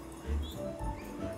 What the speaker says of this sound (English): and that is a dog.